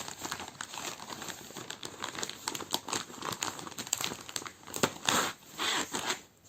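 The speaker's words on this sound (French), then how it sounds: "je vais la déballer vraiment vite fait" A plastic-wrapped paint kit package being unwrapped up close, with steady crinkling and crackling of plastic throughout and sharper rustling bursts near the end.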